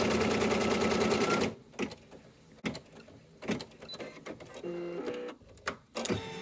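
A home embroidery machine stitches a placement line for an in-the-hoop Christmas banner, a rapid rhythmic whir heard up close for over a second, then stops and gives way to scattered clicks and handling noises.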